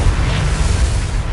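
A Bombarda explosion spell in a Harry Potter video game, a dense, rumbling blast that holds steady and loud through the whole short moment with no voice over it.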